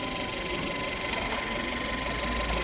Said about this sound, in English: everything is in, engine starting, running perfectly fine.